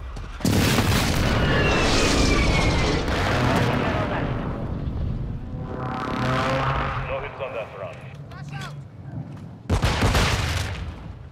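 Airstrike explosions in a video game, a string of heavy booms and rumbling blasts across the whole stretch, with a final burst near the end, mixed with voices talking.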